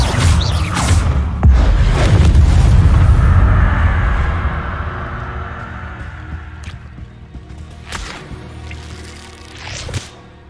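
The Incendio fire spell erupts with a heavy whooshing boom in Hogwarts Legacy, loud at first, then a rumbling burn that fades over several seconds, with a few sharp cracks later on.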